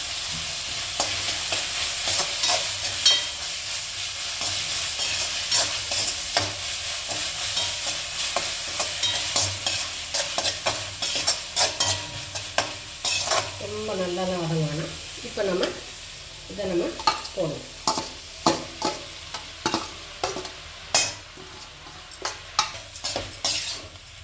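Green chilies sizzling in hot oil in a pan while a metal spoon stirs and scrapes repeatedly. The clinks and scrapes come close and irregular over the steady frying hiss, and there is no talking.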